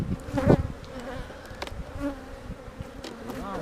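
Honeybees buzz around a freshly split hive in a dense, steady drone of many wings, with a few louder passes close by and a constant hum throughout.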